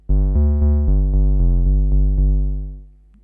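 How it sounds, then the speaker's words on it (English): Deep bass notes come from a Roland 202 monophonic bass synthesizer. It plays a quick, even run of about ten notes, loud and close, then the last one fades out. "Monophonic bass synthesizer, kind of like a small SH-101"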